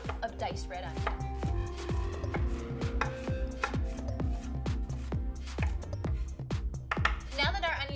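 A knife chops rapidly and rhythmically on a cutting board, dozens of crisp close taps as a red onion is diced, with a faint clink near the end.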